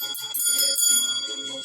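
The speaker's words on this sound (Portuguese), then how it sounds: "E aí ele escuta o sino tocando." A bell rings at the end of Mass in bright, close metallic strikes that repeat quickly with overlapping shimmering tones.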